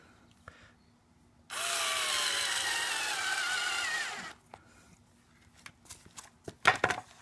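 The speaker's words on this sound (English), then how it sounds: "So we're going to try and just straight up drill these in." A power drill runs steadily for about three seconds as it drives into a wing prop, its motor whining with a slight rising pitch, then stops, followed by a few faint knocks and handling sounds.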